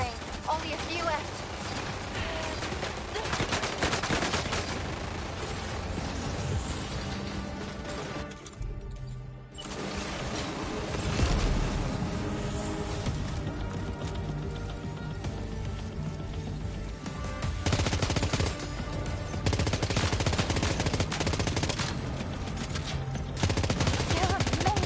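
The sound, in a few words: gunfire from the video game Death Stranding 2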